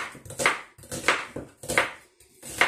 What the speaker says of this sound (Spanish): vamos a empezar picando la cebolluca